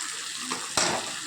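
Mushroom curry with salt, turmeric, chili powder and dry-roasted ground cumin and coriander sautéing in a pan gives a brief close sizzle with a sharp stirring scrape partway through.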